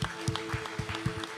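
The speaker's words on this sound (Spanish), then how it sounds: "démosle un aplauso al Señor" A church congregation applauds during a Sunday worship service, with a short patter of claps in a loose, uneven rhythm, moderately loud and heard without talk over it.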